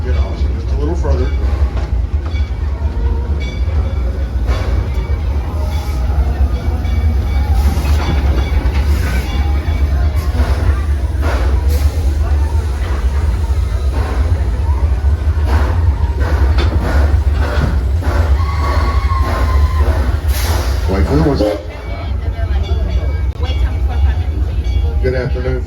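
A Six Flags Over Texas Railroad train rolls steadily along with a continuous low rumble and faint rhythmic track clatter, while passengers talk nearby throughout.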